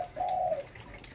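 A spotted dove gives a single soft, low coo held for about half a second, close by, against faint background noise.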